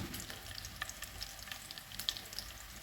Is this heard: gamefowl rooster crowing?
no